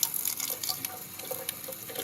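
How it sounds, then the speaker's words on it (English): Water trickles steadily from a kitchen tap while prickly pear cactus is being prepared, a soft continuous splashing with small drips running the whole time. "now I've got to trickle the water right here"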